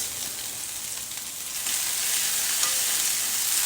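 Dried chilli, mustard seeds, cumin, green chilli paste and curry leaves frying in a pan make a dense, close hiss of tempering oil that swells a little louder midway, with no one speaking.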